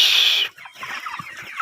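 Chickens on a poultry farm give short, soft clucks and rustles, coming right after a brief burst of bright hiss at the start.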